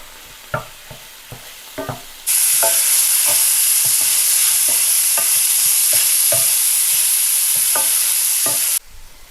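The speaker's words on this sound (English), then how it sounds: "Now we're just going to kind of break it up." Diced onions being broken up in a pan with a utensil: a few scattered scraping taps, then a loud, steady sizzle bursts in and holds while the tapping continues over it before the hiss cuts off.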